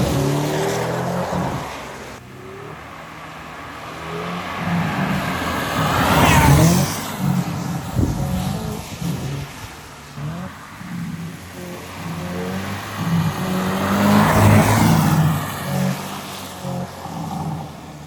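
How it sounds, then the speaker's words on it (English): A Hyundai Ioniq 5 N electric car plays a synthetic engine note as it drives past with windows open, swelling twice to loud passes with rising revs between quieter stretches. "we're doing like sound checks with electric cars"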